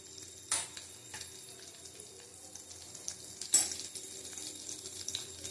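Bay leaf, whole garam masala, cracked cardamom and cumin seeds fry in hot oil with a steady low sizzle, broken by two sharp clanks of a utensil against the pan; no one speaks.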